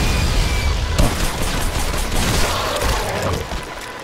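Heavy, continuous video game gunfire with an SMG and pistols, loud and close, merging into a roaring wash of shots and blasts for about four seconds.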